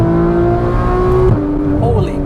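A 2015 Porsche 911 GT3 (991.1) flat-six revs hard, then drops sharply as the PDK paddle downshift snaps through, the engine loud and close with a voice talking over it.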